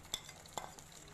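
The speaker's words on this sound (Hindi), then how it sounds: "इसको बहुत अच्छे से मिक्स कर देंगे" Chilli fries being stirred and mixed in a pan with sauce, tomato ketchup, red chilli flakes and red chilli: a couple of faint, brief clinks and scrapes over a quiet background.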